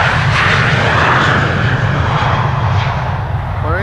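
A jet airliner departs Amsterdam Schiphol Airport, its engines producing a loud, sustained roar with a deep rumbling low end that holds steady and eases slightly toward the end.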